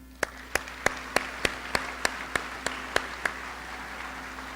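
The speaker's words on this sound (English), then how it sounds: "in giving them a round of applause" A high school commencement audience claps at a graduation ceremony, sharp regular handclaps standing out over a softer spread of applause that slowly thins and fades after a few seconds.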